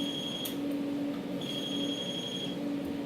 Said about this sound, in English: The home screen, silence the alarm.